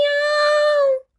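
A storyteller's voice imitates a tiny kitten's meow, one sustained tonal cry lasting about a second, clear and close, with no other talk during it.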